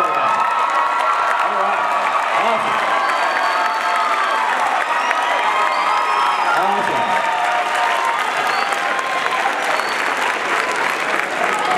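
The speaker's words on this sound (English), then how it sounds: "that's the group of heroes that always gets the largest round of applause" A large crowd of students at a SkillsUSA Arizona state opening ceremony applauds and cheers loudly for their advisors and instructors, a sustained roar of clapping with whoops throughout.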